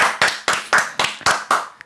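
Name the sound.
studio audience clapping for a guest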